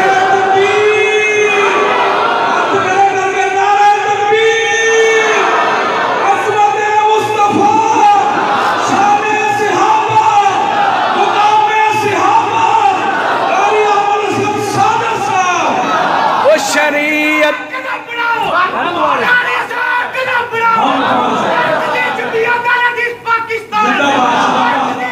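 A large crowd at a religious gathering chants slogans in praise of the Companions, many voices rising and falling together in loud, continuous rhythmic calls that stay close and dense throughout.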